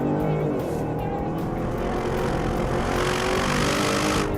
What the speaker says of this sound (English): refined, yet bellowing from those 4 exhaust pipes